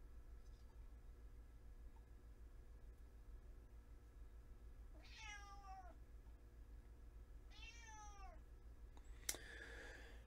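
Cat meowing indoors during a live stream, two clear drawn-out meows a few seconds apart over a quiet background hum, followed by a brief sharp click.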